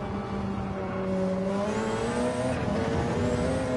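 Multiclass race car in Gran Turismo 7 at Interlagos, its engine held at full throttle and winding up steadily in pitch, loud and close, with a brief high squeal riding on top and no voices.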